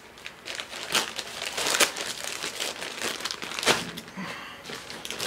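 A package is sliced and pulled open with a knife, producing close crinkling and tearing of plastic or paper packaging in uneven bursts, with occasional louder rips.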